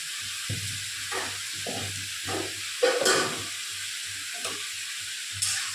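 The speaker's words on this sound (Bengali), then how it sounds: "এঁচোড়টা আলুটা আমি ভালো করে ভেজে নিয়েছি" Jackfruit and potato frying in a pan, a steady sizzle broken by repeated scraping stirs and a low hum, with a sharper hiss flaring midway.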